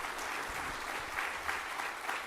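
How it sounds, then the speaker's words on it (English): An audience applauds after a speech at a cyber risk talk, steady close clapping filling the whole stretch with no voices over it. "Lieutenant General Michelle McGuinness, please give her a warm round of applause."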